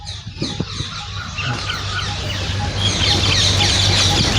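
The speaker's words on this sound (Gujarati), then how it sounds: "અહીંયા કોઈ જ અવાજ નહીં ખાલી પશુ પક્ષીઓનો જ અવાજ" Chickens cluck and call nearby over a steady background wash of rain, the bird calls overlapping and repeating throughout, at Gandhi Ashram in Ahmedabad.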